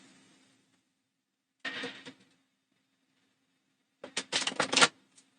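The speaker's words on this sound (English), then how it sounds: "So we're going to shuffle these up." A deck of game cards being shuffled for a solo tabletop game, with two separate bursts of rapid riffling clicks. The second burst is louder and longer, and the pauses around them are quiet.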